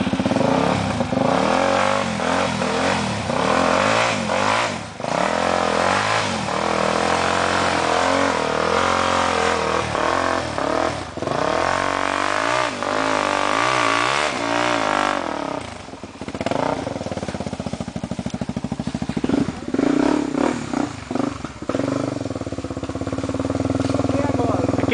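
A motorcycle engine revving during a wheelie attempt, rising and falling in repeated throttle bursts with loud, close clattering, while people talk over it throughout.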